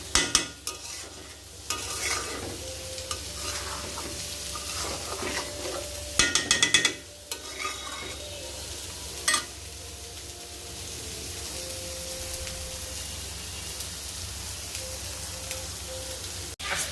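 Food frying in a pan being stirred, a steady close sizzle with occasional louder scrapes and clinks of the utensil against the pan.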